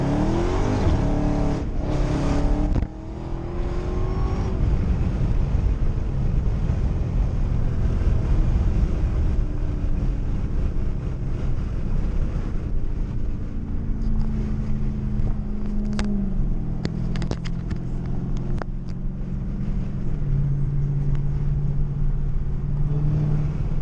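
Chevrolet Camaro ZL1 cars driving on city streets, with a loud, close engine roar, a sharp revving burst near the start, then steady cruising drone with shifting pitch.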